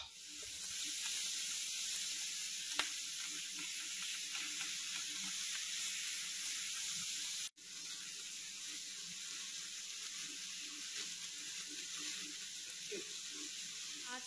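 Vegetables frying in a home kitchen pan, a steady broadband sizzle and hiss running throughout with a brief dropout midway, continuous and fairly close, no talking.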